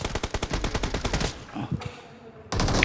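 Rapid bursts of shotgun fire from the mobile game BGMI in a team deathmatch, a quick string of close, punchy shots followed by a pause and then a sharp noisy burst near the end.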